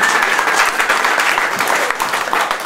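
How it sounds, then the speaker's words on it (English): Guests at a birthday gathering with quiz and speeches break into loud, close, sustained applause, a thick continuous patter of many hands clapping together. "Big round of applause, folks."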